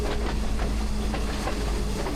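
A train runs on the Kandy to Ella line near Nanu Oya, a steady loud rumble with a faint rhythmic clatter and a constant low drone, with no voices.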